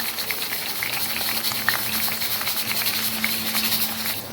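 Eggplant pieces fry in hot ghee, giving a steady, even sizzle with a faint crackle that holds at one level throughout, close by and free of talk.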